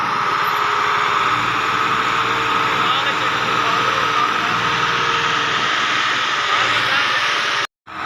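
A 260 model tractor's engine labouring hard as it climbs a steep slope, a loud continuous drone with rough low rumble that cuts off abruptly near the end.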